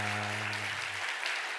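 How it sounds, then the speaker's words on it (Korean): A church congregation claps steadily for over a second during a Sunday service, with a low sustained tone fading out beneath the applause early on. "오늘 이렇게 황미애 자매님 이렇게 오셨는데 우리 정말 기쁜 마음으로 우리 힘차게 환영의 박수 한번 하도록 하겠습니다"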